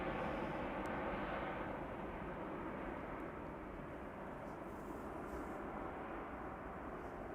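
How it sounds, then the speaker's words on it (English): A KLM Airbus A321neo jet taxis at Amsterdam Schiphol Airport, a steady, fairly quiet engine rumble and whine that holds even throughout, with no talk over it. "KLM A321neo to Chester underway"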